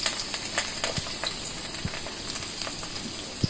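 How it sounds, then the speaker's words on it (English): Onions frying on high flame in hot rice bran oil in a wok, a faint steady crackle and sizzle with a few sharp pops scattered throughout, no voices. "The onions are being fried on high flame."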